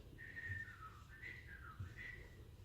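A person whistles a short wavering melodic phrase in three rising and falling swoops, soft and close, against a low background rumble with no talking.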